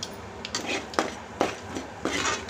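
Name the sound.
stirring masala paste in hot oil in a pan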